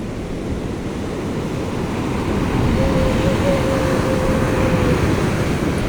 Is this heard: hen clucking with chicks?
no